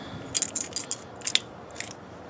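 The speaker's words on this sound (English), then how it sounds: "Car keys" Car keys for a Chevy Cruze jangle close by in several quick metallic bursts, bright and clinking, with short pauses between shakes and no talking.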